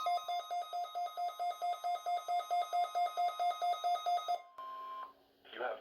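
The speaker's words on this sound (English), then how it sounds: "You have just heard a test of the National Weather Service radio warning alarm feature." A National Weather Service NOAA weather radio warning alarm test: a steady, loud pulsing tone beeping about twenty times in an even rhythm for four seconds, then cutting off into a brief burst of different tones.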